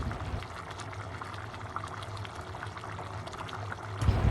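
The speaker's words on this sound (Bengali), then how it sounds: "সুগন্ধি বৃদ্ধির জন্য 1 চামচ পরিমাণ কেওড়া জল দিয়ে দিচ্ছি" Kewra water poured into a pot of chicken tehari rice gives a brief, soft liquid splash over a steady background hiss, with no voice.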